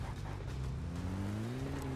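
A car driven in the mobile battle royale game PUBG Mobile, with a steady engine drone rising gradually in pitch as it accelerates, loud and continuous with no one speaking.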